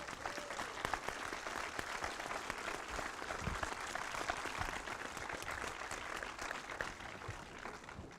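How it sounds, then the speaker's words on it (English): Steady applause from an audience at the Zurich Film Festival 2020 masterclass interview, dense, even clapping filling the room throughout at a moderate distance, with no speech over it. "a big round of Swiss applause for Victoria."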